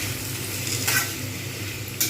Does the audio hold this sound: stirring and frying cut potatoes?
yes